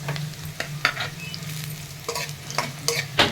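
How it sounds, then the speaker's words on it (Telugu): Bitter gourd pieces stir-fried in plenty of hot oil sizzle steadily, broken by sharp scrapes and clatters of a ladle turning them in the pan, close and clear. "ఆయిల్ వేడైన తర్వాత కాకరకాయ ముక్కలు వేసుకుని వేయించాలండి"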